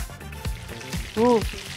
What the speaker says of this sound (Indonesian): Jadi kalau goreng spring roll itu memang ya, minyaknya harus sebanyak ini biar warnanya tuh rata.